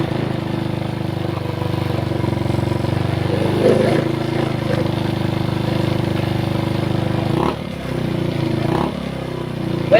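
A motorcycle engine idles steadily up close with a low continuous rumble, after its idle has been adjusted while checking a battery charging fault; a couple of small knocks and brief shifts break in near the end.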